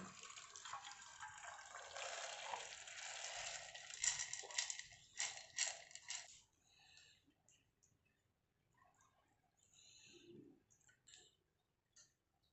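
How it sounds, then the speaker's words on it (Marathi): Boiled water poured over a cloth laid on a strainer holding jowar for making jowar puffs: a splashing, trickling pour lasts several seconds, then fades into soft drips and small clinks. "याच्यावरती आपण पाणी उकळलं ना याच्यावरती ओतून घ्यायचं आता"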